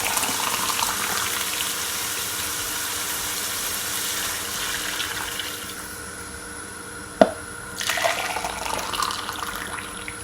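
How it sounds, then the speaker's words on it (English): Warm water runs steadily into a pot for Jamaican sardine seasoned rice, a close rushing pour that thins out midway, followed by a sharp clank and some softer pouring, with no talk. "So now I'm gonna add some water,"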